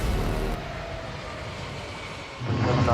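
An Emirates heavy jet takes off from runway 34 Right at Seattle, a loud, broad engine roar that eases briefly, then swells again toward the end.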